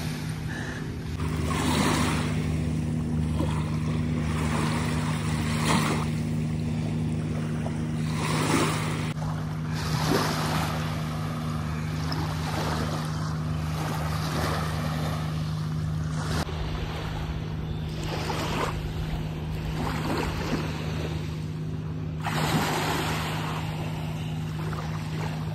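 Waves washing onto the Lake Erie shoreline at Presque Isle, a continuous surf wash mixed with gusting wind buffeting the microphone and a steady low hum, with occasional louder breaks.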